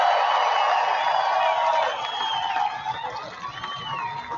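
A large crowd at the Iowa fairgrounds roars and cheers during a Fourth of July rally, a loud sustained wall of shouts and whoops that eases slightly but keeps going throughout.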